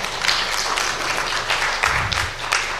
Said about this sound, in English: Let's clap for Judy.